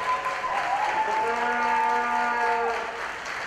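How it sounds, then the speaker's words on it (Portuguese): Stadium applause for the Grêmio players, runners-up in the Gauchão women's under-17 final against Internacional. Sustained crowd clapping carries through at moderate volume, with a voice or tonal sound riding over it in the middle. "Um aplauso merecido aos atletas do Grêmio"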